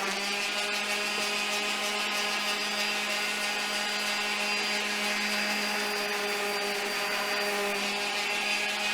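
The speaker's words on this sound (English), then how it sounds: "Here I'm sanding all the legs." Continuous sanding on wooden coffee table legs, a steady abrasive rasp with a motor whine underneath, unbroken and fairly close throughout.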